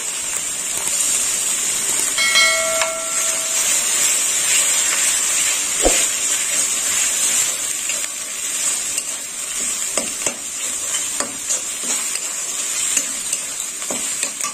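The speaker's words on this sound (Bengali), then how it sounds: "মশলাটা একটু ভালো করে কষে নেব।" Spice masala fries in a pan for mixed vegetable rice, giving a loud, steady sizzle and hiss with occasional stirring scrapes throughout; no one speaks.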